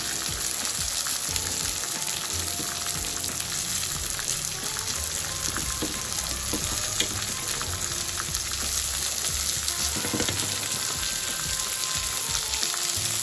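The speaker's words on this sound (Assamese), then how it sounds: "আৰু কৰ্নটো মই ভাজি লৈছোঁ।" Corn kernels frying in a pan for corn pulao, a steady close sizzle with faint crackles and occasional stirring scrapes, continuous at moderate level.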